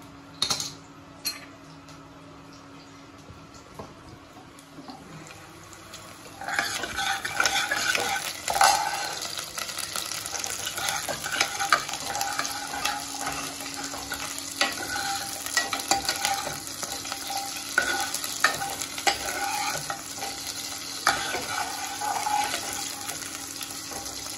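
Tomatoes frying in a pan for a home dinner, a quiet start giving way to steady sizzling with repeated scraping stirs and light utensil clinks against the pan, close and continuous.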